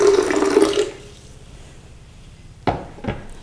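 Water poured into a kitchen blender while making vegan tarator, a short splashing rush in the first second that quickly stops, followed by quiet and a couple of sharp clicks.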